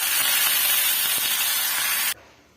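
Curry leaves hit hot oil for a tempering of mustard seeds and urad dal meant for a chutney, giving a loud, even sizzling hiss that cuts off abruptly near the end.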